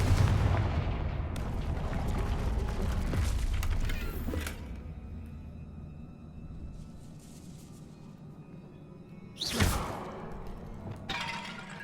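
A Confringo blasting curse in Hogwarts Legacy goes off as loud booming explosive bursts, one early and another sharp crack near the end, over a rumbling game ambience with no voices.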